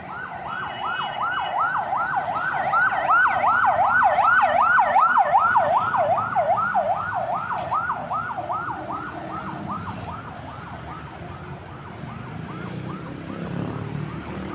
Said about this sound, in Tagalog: Lagi na lang pong may ambulansya.